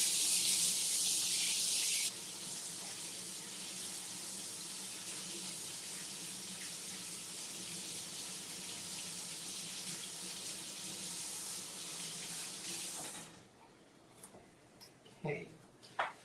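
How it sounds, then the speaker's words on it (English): Water from a sink tap runs steadily for about thirteen seconds as a paint brush is rinsed under it during ornament crafting, a strong even gush that cuts off, leaving a few faint handling clicks. "let me rinse this off really quick. I'll rinse off my brush real fast."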